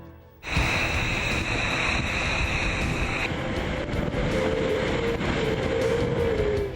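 Strong wind and heavy breaking waves on the Southern Ocean, recorded aboard a racing yacht below South Africa's Cape of Good Hope; a loud, continuous roaring rush of wind and water that starts abruptly and fills the whole stretch, with no talk.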